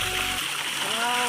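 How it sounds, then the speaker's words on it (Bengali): Cold water gushes steadily outdoors while someone bathes in a West Bengal village. The flow is a loud, continuous splashing rush, and a faint voice sits underneath it. "তো দেখতে পাচ্ছ এখানে জল বেরোচ্ছে, দারুণ জল বেরোচ্ছে।"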